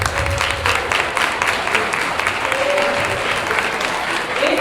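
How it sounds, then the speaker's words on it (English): Audience applauding young first- and second-grade poets at a school arts night, a steady, dense wash of clapping from a crowd that carries on throughout, with a few scattered voices rising under it. "let's give them a round of applause."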